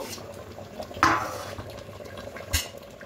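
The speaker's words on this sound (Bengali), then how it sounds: "এবার ঢাকাটা খুলে নেব।" A metal lid comes off a cooking pot of black pepper chicken with two sharp clanks, the first louder, over a faint background hum.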